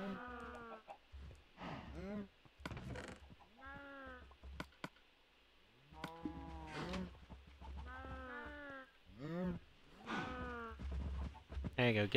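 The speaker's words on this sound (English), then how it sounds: "Now, let's see about breeding a few more sheep." Minecraft sheep bleat repeatedly in a game, several wavering cries close up, some overlapping, with short gaps between calls and no talk.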